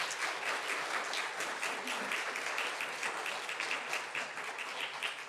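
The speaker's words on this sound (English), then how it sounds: "a round of applause for our great panel" Audience applauding a conference panel on demand flexibility, a steady, even wash of clapping held at moderate level for several seconds with no voices over it.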